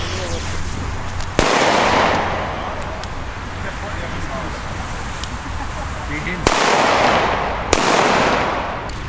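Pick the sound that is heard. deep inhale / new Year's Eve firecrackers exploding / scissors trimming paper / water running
new Year's Eve firecrackers exploding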